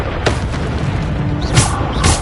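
Hogwarts Legacy Bombarda explosion spells go off, several deep booms and bursts over a steady rumbling game backdrop.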